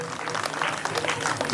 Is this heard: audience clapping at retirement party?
yes